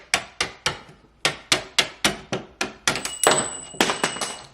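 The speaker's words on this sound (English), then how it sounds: "So you put your screwdriver under, hit it with the pin going up." A screwdriver is struck repeatedly to drive a door hinge pin upward, producing a series of sharp, close metallic-wooden knocks in an uneven rhythm, about fifteen hits, with some faster clusters near the end.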